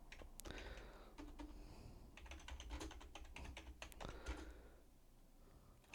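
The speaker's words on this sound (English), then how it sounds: "Currently creating a video while typing." Quick irregular clicks from a computer keyboard, typed in short bursts with brief pauses, close and fairly quiet.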